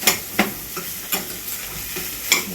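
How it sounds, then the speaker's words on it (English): Cooked rice with egg stir fried in a hot pan, with steady sizzling and rhythmic scraping strokes of the utensil about every half second. "And then we're going to stir fry. And then we're going to put the cooked rice in there."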